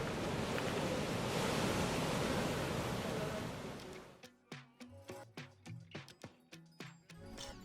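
Atlantic surf rolling in at an old pier in Cape Verde, a steady broad wash of waves for about four seconds, then a series of sharp rhythmic knocks and clatters close by.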